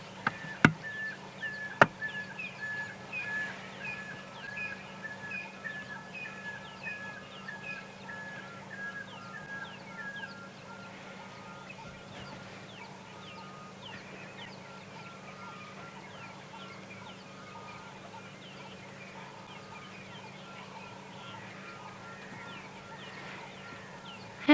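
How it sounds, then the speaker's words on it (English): Soft, repeated whistled calls from a pair of pearl-spotted owlets in a quiet outdoor dawn setting on safari, rising in a series and fading out partway through, with faint background hum. "A pair of pearl-spotted owlets calling."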